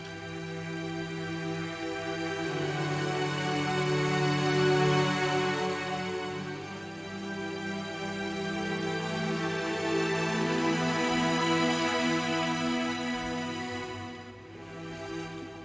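Strings and piano play together in an Afro House track, with sustained string chords over steady piano notes, a full, continuous blend that swells and dips slightly before thinning near the end.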